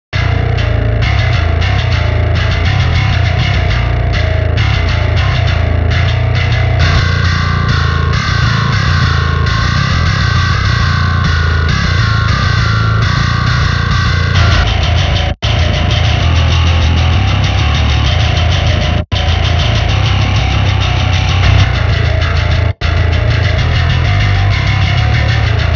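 Three bass synth plugins, NocturnalBass, Djinnbass 2 and Eurobass 3, play in solo: loud, distorted, effected bass tones sustain continuously with heavy low end, broken by a few abrupt short gaps as patches switch.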